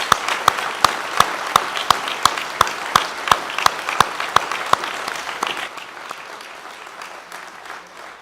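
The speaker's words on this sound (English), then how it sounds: "Please join me in a round of applause to recognize these soldiers and their sacrifice." Applause at a send-off ceremony for soldiers of Bravo Battery, 1st Battalion, 188th Air Defense Artillery, with sharp rhythmic clapping over crowd clapping that gradually thins out and fades toward the end.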